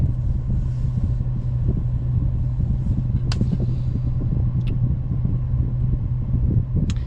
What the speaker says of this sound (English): I'm sitting here in traffic